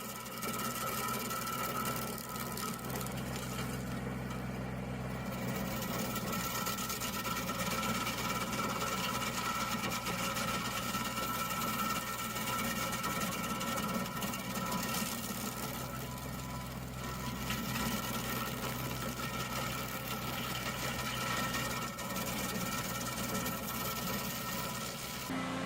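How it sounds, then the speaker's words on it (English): A stump grinder chews through a tree stump with a steady, loud mechanical drone that holds constant throughout, engine hum and grinding vibration continuous with no pauses. "The stump removal machine operates with power, gripping tightly and uprooting the tree stump in seconds."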